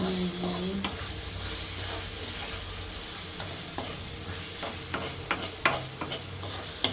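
Chicken fry sizzles steadily in a hot pan while a spoon stirs it, with scraping strokes and clinks growing sharper toward the end.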